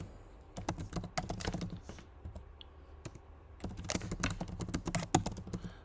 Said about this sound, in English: I type this and hit enter.